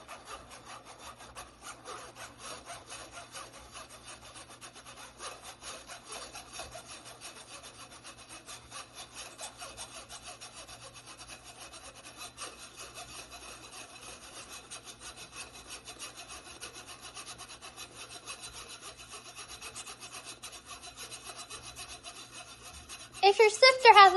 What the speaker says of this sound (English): When you're sifting, you can push the ingredients through using a rubber spatula or a spoon